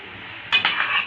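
Metal utensil scrapes and clinks against a cooking pot while potatoes, tomatoes, onion and carrots are stirred, a short burst of close clatter after a quiet moment.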